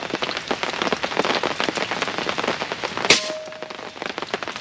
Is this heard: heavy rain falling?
yes